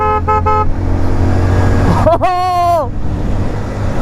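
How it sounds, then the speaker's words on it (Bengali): A Hero Splendor motorcycle horn sounds loudly with a couple of short toots followed by one sustained honk, over steady engine and road noise. "ভাই হর্ন চেক আউট করো গাইজ"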